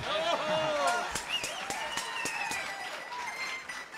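Applause breaks out for the director at a university tuna and estudiantina gathering, with clapping and crowd noise under an announcer's voice.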